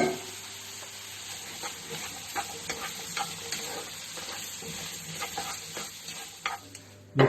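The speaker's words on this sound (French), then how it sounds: "je vais ajouter les asperges." Shallots, onion and asparagus sizzle and fry in a pan while being stirred, a steady close crackle with scattered scraping taps, no talking.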